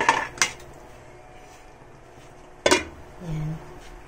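A lid clanks onto a pot of pork paksiw with a sharp metallic knock, after two earlier lighter clinks of cookware and then a low simmering hum.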